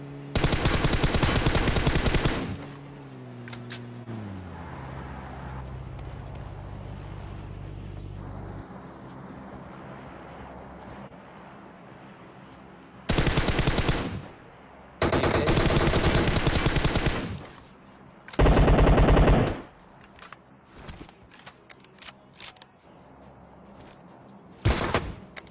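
Automatic gunfire in the PUBG Mobile shooter game, several loud rapid bursts separated by quieter stretches of background game sound and a passing engine drone.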